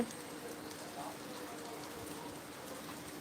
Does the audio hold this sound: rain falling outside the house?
yes